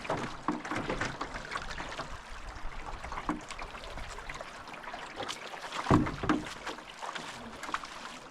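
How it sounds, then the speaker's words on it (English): Canoe being lined by hand through a shallow rocky stretch on a Wabakimi Provincial Park wilderness trip: steady close sloshing and trickling water with scraping and knocking against the hull, one louder splash near the end. "Time for my favorite canoe activity. The lining action here."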